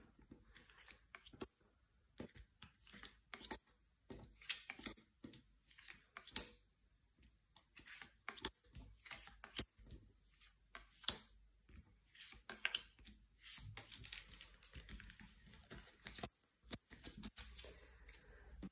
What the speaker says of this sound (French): je vais étaler les cartes